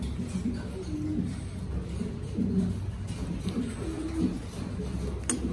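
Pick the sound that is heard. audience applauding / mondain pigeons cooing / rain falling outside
mondain pigeons cooing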